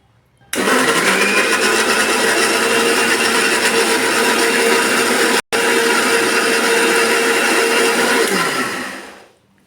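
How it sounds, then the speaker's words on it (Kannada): Kitchen mixer grinder blending leftover banana, starting abruptly into a loud, steady high-pitched whirr that runs continuously apart from one brief cut, then winds down at the end. "ಈಗ ಇದಕ್ಕೆ ಮುಚ್ಚಳವನ್ನು ಮುಚ್ಚಿ ನಾವು ಇದನ್ನು ಗ್ರ್ಯಾಂಡ್ ಮಾಡ್ಕೊಂಡ ಬರೋಣ್ರಿ"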